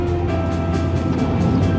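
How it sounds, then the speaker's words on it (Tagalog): Indoor unit of a Daikin split-type air conditioner, model RZFC140AVM, running its fan motor while the compressor stays off: a steady, loud, close whirring hum with a low drone, unbroken throughout. "Gumagana yung fan motor."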